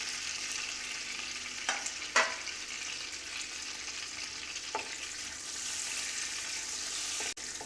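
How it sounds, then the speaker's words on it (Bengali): Whole garam masala frying in hot oil and ghee, a steady, close hiss of sizzling with a few brief clicks from stirring in the pan. "গরম মশলা কটা জাস্ট 30 সেকেন্ডস মতো একটু ফ্রাই করে নিতে হবে।"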